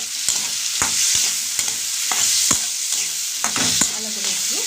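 Radhuni spice paste frying and being stirred in a pan for a kachki fish jhal: a steady, close sizzle broken by repeated sharp scrapes and knocks of the spoon against the pan.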